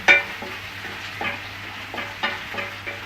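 Capsicum and egg curry is stirred and cooked in a pan, with a soft steady sizzle under several distinct spatula scrapes and clinks spread across a few seconds, close and moderately loud, with no talking.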